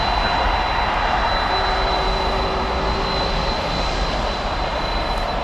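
Steady, loud roar of jet airliner engines at DFW Airport at night, a continuous broadband rumble with a faint whine, sustained without break.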